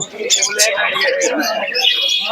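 Pigeons cooing amid other birds chirping at the Santipur market, a dense, close mix of calls with market chatter around them.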